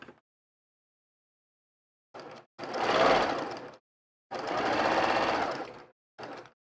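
A sewing machine stitches straight down the side of jelly roll quilt fabric in separate runs: a short burst, two long steady whirring stretches, then a brief final burst, with close, clear quiet between them.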